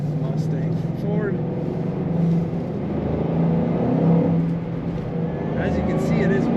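A 2007 Ford Mustang Shelby GT500 convertible accelerates on a winter road, its engine a steady, rising rumble heard from inside the car, with a person talking over it.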